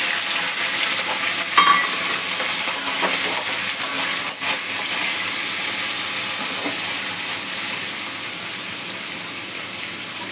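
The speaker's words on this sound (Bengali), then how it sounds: "পেঁয়াজটা একটু লাল লাল করে ভাজা হোক।" Onions fry in a pan with a loud, continuous close-up sizzle and hiss that holds steady and eases slightly toward the end, broken by a few sharp clinks of stirring.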